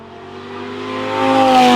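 Audi R8 V10 with a gated manual revving while driving, a loud rising engine note that climbs steadily over a couple of seconds, heard from inside the cabin.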